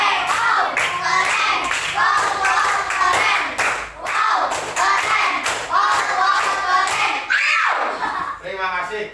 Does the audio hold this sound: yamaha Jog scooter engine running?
no